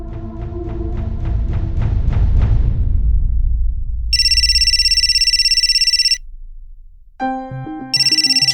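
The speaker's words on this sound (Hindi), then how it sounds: "अरे किसका फोन है और आप उठा काहे नहीं रही?" A telephone rings loudly in a home during a domestic drama scene. It follows a few decaying plucked tones, then gives a sustained electronic ringtone burst lasting about two seconds, a short pause with other tones, and the ringing starts again.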